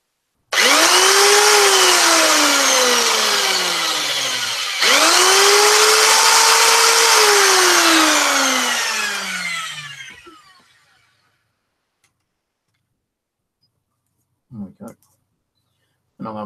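A power drill bores into a cork fishing float during homemade float making: two sustained whining motor bursts rising and falling in pitch over about ten seconds, followed by silence and a couple of brief clicks.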